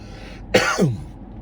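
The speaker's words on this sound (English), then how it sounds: "That was more of a food cough from inhaling my food" A single close, harsh cough from inhaling food, with a throaty burst, followed by a shorter second hack, then quiet room noise.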